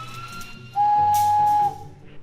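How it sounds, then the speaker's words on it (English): A single loud, steady, high-pitched whistle made with fingers, held for about a second, standing out over quiet background noise. "Can you whistle with your whistle?"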